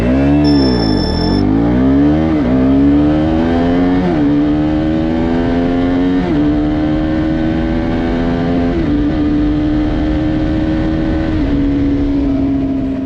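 A KTM 200 Duke motorcycle accelerates hard from 0 to 100, its engine note climbing in a rising whine through several gear shifts, each marked by a brief drop before pitch rises again, loud and close with no talk.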